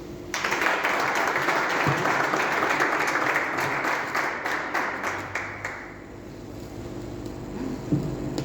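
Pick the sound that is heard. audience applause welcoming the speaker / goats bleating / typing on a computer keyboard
audience applause welcoming the speaker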